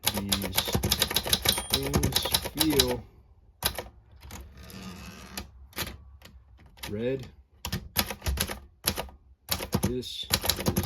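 Typing on a small Florida or Swissa manual typewriter gives rapid, snappy key strikes in bursts with short pauses between them. A person talks over parts of the typing.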